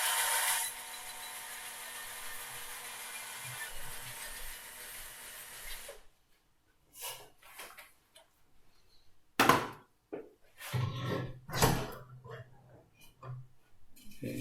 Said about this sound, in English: letting the weight of the drill itself push the bit through the wood